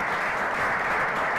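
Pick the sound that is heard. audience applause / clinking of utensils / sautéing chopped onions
audience applause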